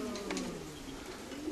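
Racing pigeons cooing at a three-entrance loft, a soft low throaty coo from one bird over quiet background.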